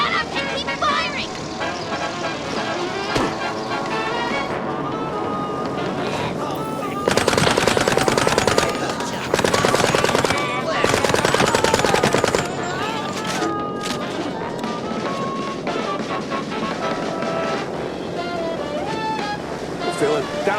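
Sustained automatic gunfire from a machine gun in the video game Mouse: P.I. for Hire, loud rapid bursts dense through the middle, over a constant roaring water-and-wind backdrop with in-game voices talking.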